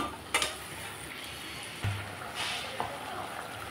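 Ground spice paste added to a pan and stirred while cooking a light chital fish curry without onion or garlic: a steady low sizzle broken by a few sharp spoon scrapes and knocks against the pan.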